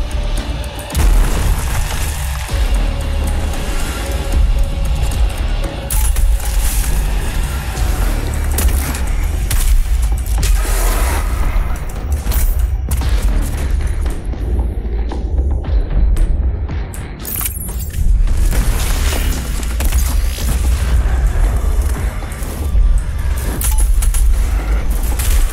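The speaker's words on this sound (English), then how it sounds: "Something exploded right next to me." Loud, dense action-game audio from Doom Eternal, with repeated booming explosions and bursts layered over constant heavy rumble and clatter for the whole stretch, with no voices.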